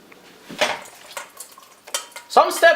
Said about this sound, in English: and then mix in dill.